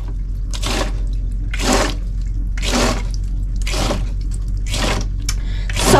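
A foot pedal pump pushes water into a tiny sink on a small boat in six evenly spaced gushing spurts, one with each press, over a low steady hum.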